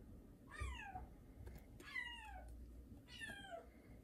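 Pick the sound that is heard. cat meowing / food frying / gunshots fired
cat meowing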